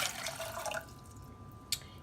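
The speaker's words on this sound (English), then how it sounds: "I'm gonna put 2 cups of water in here." Tap water pouring into a large cooking pot in a home kitchen, a steady splashing rush for most of a second that fades to a quiet room, then one short clink near the end.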